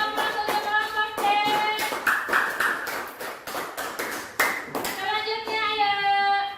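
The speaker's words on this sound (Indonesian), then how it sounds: "Kasih aplaus untuk kelompok C" Classroom applause for a student group: a brief burst of hand clapping from a small gathering, fairly close and steady, with a voice speaking over the start and end.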